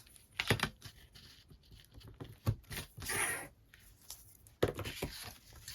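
Backing being peeled off tearing tape during card making, heard as a few close, crisp ripping and crackling bursts with a longer peel in the middle, no talk over it.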